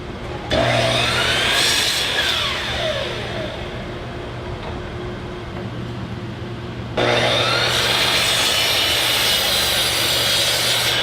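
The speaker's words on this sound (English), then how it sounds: "When we get it up here on the miter saw, we use the stop block so we get nice repeatable cuts." Miter saw with a stop block cutting wood pieces for a mirror frame: a loud motor whine and cut lasting several seconds, a quieter stretch, then a second cut starting up loud and running to the end.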